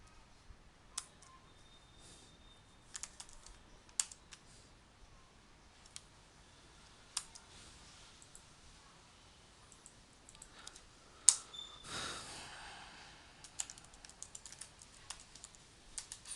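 Code being typed on a computer keyboard, with sparse, quiet key clicks at an irregular pace and a brief rustling burst near the middle.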